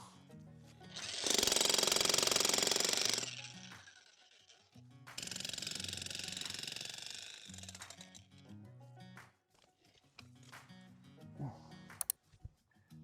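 A jackhammer pounds apart a brick chimney base beside a house foundation in two loud, close bursts of rapid hammering, separated and followed by quieter clattering of debris and faint talk.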